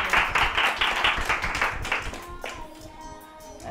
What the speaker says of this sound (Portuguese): Aplausos, rapaziada.